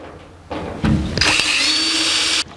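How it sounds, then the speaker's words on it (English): A power drill bores a pilot hole into a punch-marked metal part for a 1949 Chevrolet gasser's sliding tilt front end, a short close whine that starts, bites with a rough grinding burst, then holds a steady high pitch before stopping. "Drill ourselves a pilot hole."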